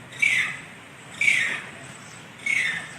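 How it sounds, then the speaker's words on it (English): Three harsh bird squawks come at even intervals, loud and close, with nothing else around them. "Hearing the rare clucking of birds, the hiker began recording"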